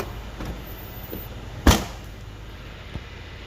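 The trunk lid of a 2015 Mercedes-Benz C250 Exclusive Line swings shut with one sharp, solid thump, followed by a much fainter click in an otherwise quiet setting.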